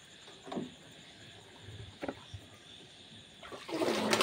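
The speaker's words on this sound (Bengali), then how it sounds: "এখানে প্রথমে আগে ডাম থেকে এতে একটু জল ভরতে হবে" Water is poured from a drum into a container outdoors, with a few short splashing bursts followed by a louder, steady gushing rush at the end.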